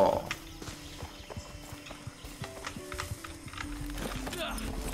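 A horse is ridden in the Far Cry 6 video game, its hooves clip-clopping in a quick, even rhythm at moderate volume over a quiet background.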